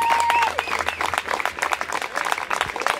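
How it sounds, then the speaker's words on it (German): A crowd at an outdoor rally in Hasenheide park, Berlin, applauds with dense, steady clapping for a few seconds, a brief whistle-like tone at the start. "bitte mal einen dicken Applaus für ihn"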